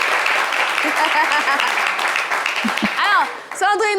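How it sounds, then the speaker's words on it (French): Audience applause greeting a guest named Sandrine on a live show, a dense wash of clapping rising loud while a voice speaks over it, then fading as talk takes over. "applaudissez pour Sandrine, les amis."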